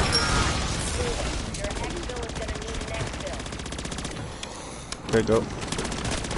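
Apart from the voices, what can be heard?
gunfire in MW3 Zombies video game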